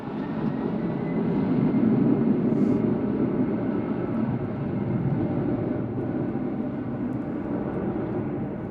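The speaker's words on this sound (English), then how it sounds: "we do have the 747 headed to Anchorage on the move" A Boeing 747 bound for Anchorage moves across the Louisville UPS airport, giving a steady, fairly loud broadband engine rumble that holds constant with no voices.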